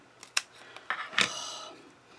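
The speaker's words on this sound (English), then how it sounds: "I'm cutting these because I only want like half pieces of the dimensionals." Ribbon scissors snipping through paper dimensional adhesive pieces at a craft table: a few sharp, close clicks and crisp cuts in quick succession, ending in a longer rasping slice, with no talking.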